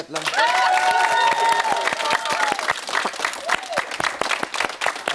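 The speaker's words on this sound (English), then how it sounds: "Give him a round of applause" Loud, sustained applause from a large television studio audience, with scattered cheers and whoops rising over the clapping before it thins toward the end.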